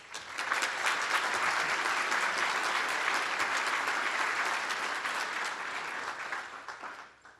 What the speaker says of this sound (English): If we can have a round of applause for them again.